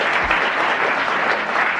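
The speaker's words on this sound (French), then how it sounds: "Monsieur Delbé vient de gagner 1000 francs et vos applaudissements" A French TV studio audience applauds in a steady, dense burst of clapping that holds at full level throughout, with no voices standing out.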